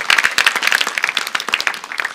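A church congregation breaks into dense, lively applause in praise, many hands clapping quickly and unevenly at close range.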